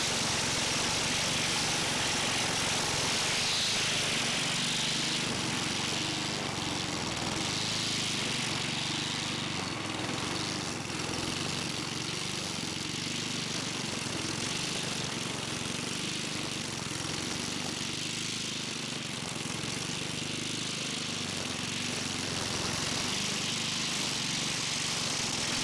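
A walk-behind high grass mower's engine runs continuously at a steady drone, loud and close, with a slight wavering in pitch but no break and no talk.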